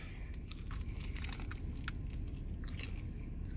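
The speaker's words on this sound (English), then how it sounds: "Sorry about that crunching you guys hear in the background. It's a family member eating." Soft, close crunching and biting from someone eating crispy garlic rub chicken wings from a Pilot travel stop, irregular chews over a steady noisy background.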